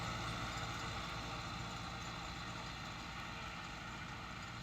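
A Fiat 640 tractor pulling a laser land leveler runs with a steady, faint engine drone that stays even and continuous throughout, sounding distant and unbroken.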